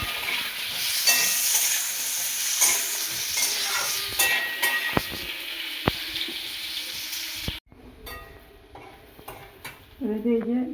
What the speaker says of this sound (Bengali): দিয়ে একটু ভাজা ভাজা করে নেবো।